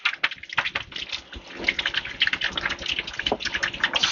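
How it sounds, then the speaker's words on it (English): Running water splashes over beans being rinsed in a kitchen, a continuous close gushing and spattering stream with uneven bursts and no talking. "Just give those a good rinse off."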